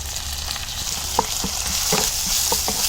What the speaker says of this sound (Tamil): இஞ்சியோட பச்சை வாசனை போகிற வரைக்கும் எண்ணெயிலே நல்லா வணக்கலாம்.